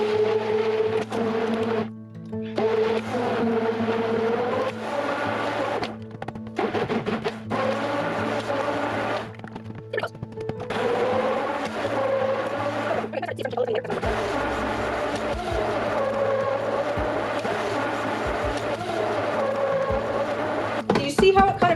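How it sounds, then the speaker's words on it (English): Soap batter being mixed loudly with an electric blender, a continuous whirring motor drone with pitch shifts and several brief pauses, up close. "we're gonna be mixing this. It's gonna be loud"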